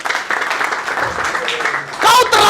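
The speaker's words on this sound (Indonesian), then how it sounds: "Berikan sorak-sorai buat Tuhan." Church congregation cheering and clapping for God, a burst of applause and shouts swelling at the end over a preacher's amplified voice.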